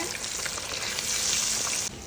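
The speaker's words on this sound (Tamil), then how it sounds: "கொஞ்சமாக போட்டு நல்லா பொரிச்சு எடுக்கணும்" Steady, dense sizzling of chicken frying in hot oil, loud and close, with faint crackles and no voices.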